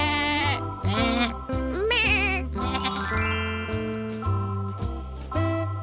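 Cartoonish sheep bleats, several in a row, ring out over a bouncy game tune with bells, with no one talking.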